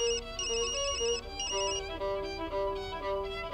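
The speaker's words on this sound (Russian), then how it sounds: "Мамочка, у тебя телефон звонит." A mobile phone ringtone rings in a melodrama film scene, playing a bright, repeating electronic melody of clear sustained notes at steady volume with no voices over it.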